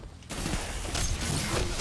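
A burst of shotgun-style gunfire from a pulse weapon in Destiny PvP, a dense rapid volley of shots after a brief quiet start, fairly faint and continuous with no talking.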